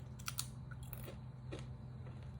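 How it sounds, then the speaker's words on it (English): Crunchy chips are bitten and chewed close by, a few sharp crunches over a low background hum, quiet and without talk. "this is how the chips look. And yeah, they're crunchy."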